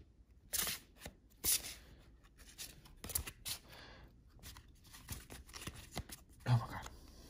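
Soft, irregular papery riffling and flicking of large Marseille Tarot cards being shuffled, with a few sharper snaps and quiet murmuring nearby.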